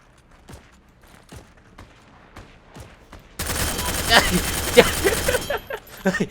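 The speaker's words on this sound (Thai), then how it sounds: "ปืนนี้แม่งโคตรเท่เลย อออโต้ด้วย ยิงรัวแบบรูดหมดปอก" Automatic gun in the shooter game Heroes & Generals: a few sparse single shots, then a sudden loud burst of rapid continuous fire lasting about two seconds before tapering off.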